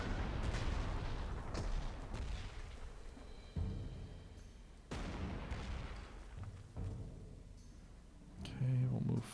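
Massed artillery bombardment in the Panzer Corps 2 strategy game, with repeated booming impacts and explosions in a loose irregular rhythm, fairly loud, with a voice talking over part of it.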